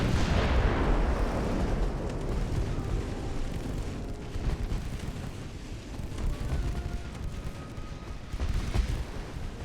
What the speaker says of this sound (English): Secondary guns, feel free to let them have it.